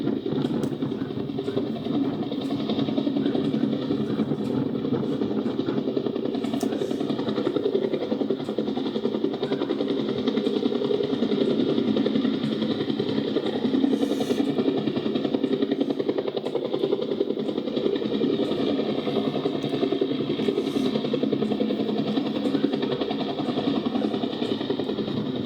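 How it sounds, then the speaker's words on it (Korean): A helicopter hovers nearby, its rotor and engine producing a steady, heavy droning roar that holds at an even level throughout. "먼저 호버링을 하는 헬기가 얼마나 흔들리는지 확인해 봅시다."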